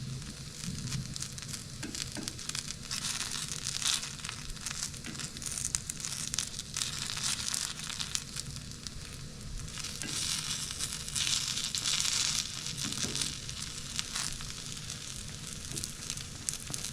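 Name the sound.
takoyaki batter sizzling in a hot takoyaki pan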